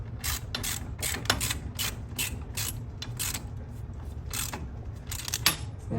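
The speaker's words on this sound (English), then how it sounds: "Then I grab my ratchet." A hand ratchet tightens a screw on a garage door torsion spring assembly, giving a steady run of close, sharp mechanical clicks in quick repeated strokes over a low background hum.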